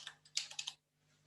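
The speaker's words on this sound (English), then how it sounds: "And now you would type in price check." A computer keyboard is typed on in a short quick burst of roughly six or seven clicky keystrokes, close and quiet, then falls silent.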